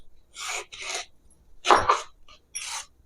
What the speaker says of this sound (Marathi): आता आपण कलिंगड कापून घेऊ।